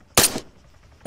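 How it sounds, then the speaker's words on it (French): Gunfire in the video game Arma 3: two sharp, loud shots about a second apart, the first ringing out in a brief tail, with quiet in between. "Ça tire."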